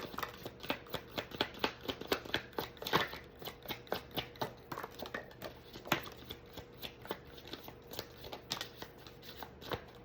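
Oracle cards are shuffled by hand in a steady run of soft, rapid riffling and slapping sounds, close and fairly quiet, continuing for several seconds without speech.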